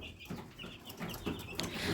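Chicks and fowl clucking and peeping close by, a steady busy chorus of small chirps and clucks with no talking.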